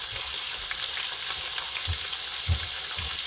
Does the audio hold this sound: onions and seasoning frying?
yes